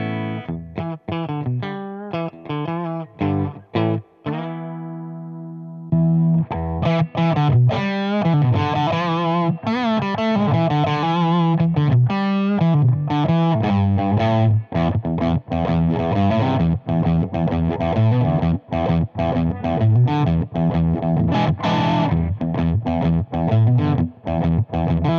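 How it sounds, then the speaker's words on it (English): An electric guitar plays through a Fender Deluxe Reverb amp with no pedal, giving continuous driven, slightly gritty chords and riffs with reverb. A brief quieter held chord comes early, then loud, busy playing carries on throughout. "This is the Fender Deluxe Reverb without the Voyager MKII."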